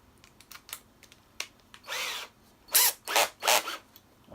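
A power drill driving long screws into wood, heard as several short whirring bursts with brief pauses between them, close and fairly loud against a quiet room.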